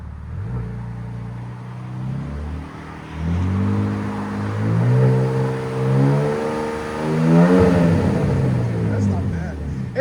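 A 2025 RAM RHO pickup with a 3.0L Hurricane inline-six and aftermarket exhaust revs up close and loud, climbing through several rising throttle blips and falling back between pulls over a steady rumbling idle.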